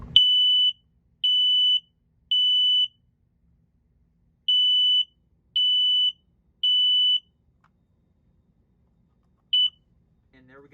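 A newly installed smoke detector sounds its test alarm as a series of loud, piercing electronic beeps close by: three bursts, a pause, three more, then one short final chirp, with no talking.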